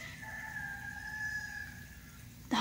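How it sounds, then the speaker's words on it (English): A rooster crows faintly from a distance across a Florida garden property in fall, with a long drawn-out call over a quiet outdoor background, followed by a brief louder noise at the very end. "The roosters are doing like a dueling banjo right now"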